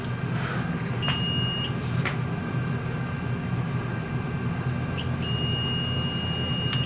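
Two short electronic multimeter continuity beeps, detecting a short on a Samsung 75-inch TV power supply board, sound over a steady low hum, a brief tone near the start and a longer one toward the end.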